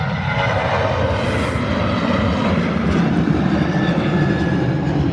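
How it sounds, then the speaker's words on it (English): A heavily loaded Jet2 airliner taking off slowly at Birmingham Airport, its engines giving a loud, steady, unbroken roar that holds without letup throughout, with no talk over it. "Taking its time, the Jet 2, to get off the ground."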